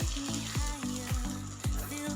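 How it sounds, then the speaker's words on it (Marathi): Egg batter for a Maggi omelette sizzles on a hot tava, a steady frying hiss beneath loud rhythmic background music with a thumping beat. "आपल्याला अंड्याची पोळी तव्यावरती टाकून घ्यायची"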